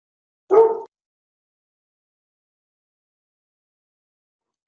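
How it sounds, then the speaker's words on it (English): A single short, loud dog bark rings out once near the start of a remote meeting, followed by silence. "Pardon the dog."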